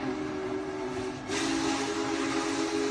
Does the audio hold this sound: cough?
no